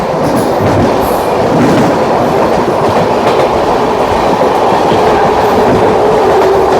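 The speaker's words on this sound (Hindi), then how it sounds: "एक और ट्रेन आ रही है" An Indian Railways train passes close by with a loud, continuous rumble and rhythmic wheel clatter over the rails, steady throughout with faint higher squeals and no voices.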